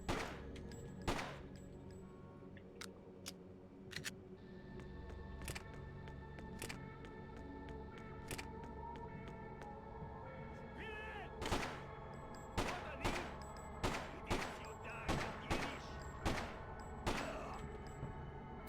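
In the Freedom Fighters video game, a not very accurate gun fires quiet, thudding shots, first scattered and then in a quicker rhythmic run near the end, over faint background game sound with some talking.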